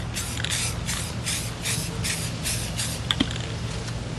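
Water sprays in a series of rhythmic short bursts onto Drylok-coated painted stonework, close and steady, with a faint low hum underneath and a couple of small taps near the end.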